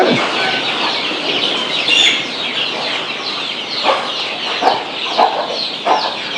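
Country hens with newly hatched chicks on a farm cluck softly in short, scattered bursts over a constant noisy background of busy chatter and hiss, with a few sharper clucks near the end.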